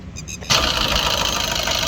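A 2017–2018 Maruti Dzire diesel engine catches and starts abruptly after a brief cranking whine, then settles into a steady, loud, rough running rumble.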